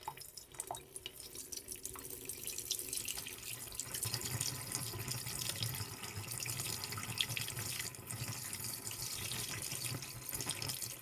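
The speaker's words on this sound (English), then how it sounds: "for the kitchen sink, I'll put in just enough antifreeze to fill the trap" Antifreeze poured into a kitchen sink drain trap at a cabin being closed for winter, a steady quiet trickle and splash of liquid running on for about eleven seconds with no talk.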